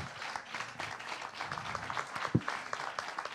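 Faint, distant audience applause at a televised Occitan music show in Toulouse rolls on as a steady patter of many hands clapping, with no pauses.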